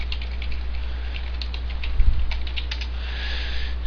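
Fingers type on a computer keyboard, a quick run of close, light key clicks over a low steady hum.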